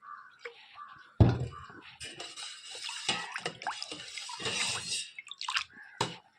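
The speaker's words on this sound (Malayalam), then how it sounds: "ഈ സ്കോഷ് ഒഴിച്ചു കൊടുക്കുക" Squash concentrate is poured into water with splashing and gurgling, a short run of pours broken by brief pauses and a few clinks.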